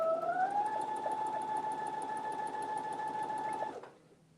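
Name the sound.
sewing machine running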